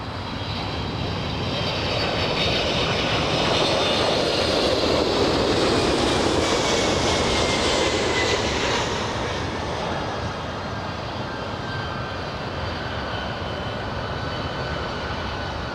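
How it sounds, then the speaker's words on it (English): Delta Boeing 767 jet arriving at LAX, its engines giving a loud, sustained roar that swells and then slowly fades over about sixteen seconds, with no talking. "We have Delta 767, the aircraft, A767."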